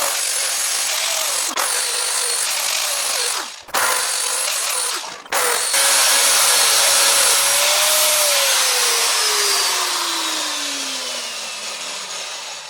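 Power sanding on a stick-welded stainless steel diamond: a loud, steady abrasive whine that cuts out briefly twice, then runs on with a tone that slowly winds down toward the end.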